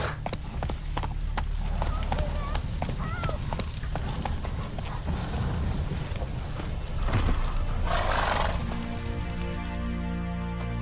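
A horse galloping in The Witcher video game, with rapid, steady hoofbeats pounding close and loud throughout, layered over game ambience and music, while a character's voice speaks briefly.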